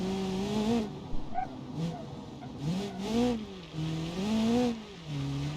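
Car engine in BeamNG.drive on the Rolling Hills rally course, rising and falling in pitch through repeated gear changes and throttle swells, steady and close with no talk.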